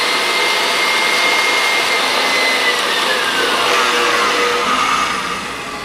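A kitchen electric mixer whirs steadily at high speed through banana bread batter with baking powder and soda, a loud continuous motor drone that eases slightly near the end.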